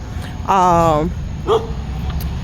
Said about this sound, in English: There's one of the little dogs that here barking.